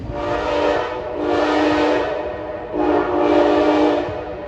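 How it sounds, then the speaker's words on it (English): An Amtrak train emerges from a tunnel portal in Long Island City, rising in two long, loud swells of rumbling, horn-like tone that fade and return. "You just heard an Amtrak train come out of the tunnel"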